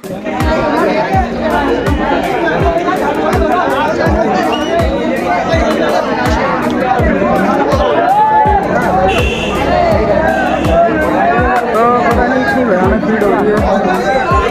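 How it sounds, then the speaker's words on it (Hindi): Huge cinema-hall crowd for Gadar 2, a dense steady babble of many voices chattering at once, loud and continuous with scattered sharp knocks and shouts throughout. "तो ऐसी भयानक भीड़ हो रही है।"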